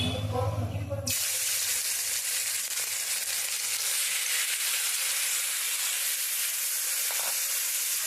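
Mourala fish sizzles loudly in hot oil, a steady dense frying hiss that bursts in after a second of quieter kitchen noise and holds on without a break.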